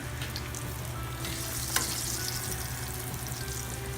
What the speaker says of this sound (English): I'm just doing a bit of flash cooking with it